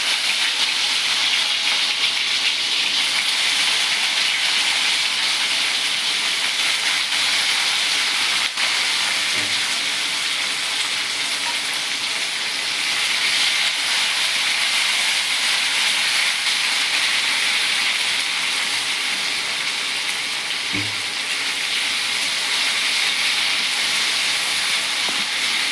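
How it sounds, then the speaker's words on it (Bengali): Green beans and vegetable stalks frying in a pan for sukto: a continuous, even sizzle and hiss that runs steadily throughout, broken only by a couple of faint low knocks. "এবার রেখে দেওয়া শিম, ডাঁটা, এগুলো একটা একটা করে আমরা ভেজে নেব"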